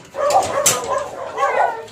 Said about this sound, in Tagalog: Ay, ang daming aso.